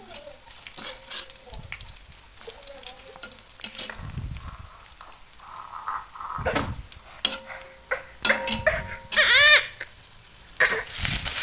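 Garlic sizzling in hot oil for a rustic pigeon pea curry, a steady close fry broken by scraping stirs and clattering spoon knocks, with occasional bright metallic taps.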